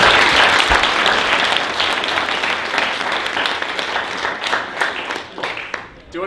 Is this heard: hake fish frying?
no